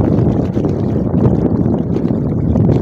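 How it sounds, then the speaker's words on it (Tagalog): Strong wind at the seashore in Rio Tuba, Bataraza, Palawan buffets the microphone in a constant loud roaring rush, with no voices heard. "Lakas yung hangin, sarap magpahangin dito."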